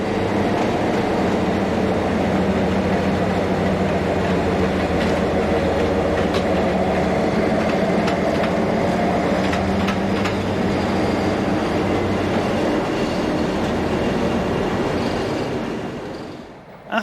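A Portuguese diesel locomotive runs light engine toward the depot at Barreiro, a loud, continuous rumbling drone with clattering wheels and rail noise that holds steady for about sixteen seconds before dropping away.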